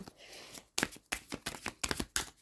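Tarot cards are handled and laid over each other on a table during a reading, a series of close, crisp slaps and slides in quick irregular bursts.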